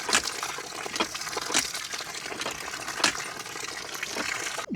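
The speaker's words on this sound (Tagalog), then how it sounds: "naikabit na yung kanilang gripo. Tingnan natin kung may tubig na" Tap water runs steadily from a newly installed faucet, a continuous splashing gush with periodic surging bursts, close and moderately loud without talk.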